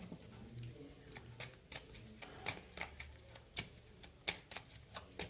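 Tarot cards being shuffled and drawn from a deck, a run of soft papery flicks and taps at close range with faint speech in the background.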